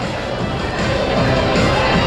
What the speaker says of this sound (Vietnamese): Những tràng pháo tay vừa rồi